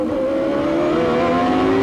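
A 1994 CART Indy car engine at Laguna Seca, a loud high-pitched racing wail climbing steadily in pitch as it accelerates, close and continuous with no talk.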